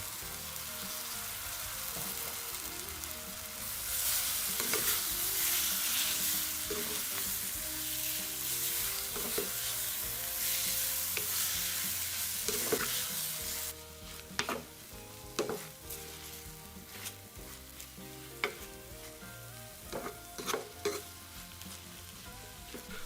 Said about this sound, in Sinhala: මේ ටික හොඳට ටෙම්පරාදු වුණාට පස්සේ මේකට අපි කලින් කපාගත්තු කොහිලාල කැබලි ටික එකතු කරලා හොඳට කලවම් කරගන්න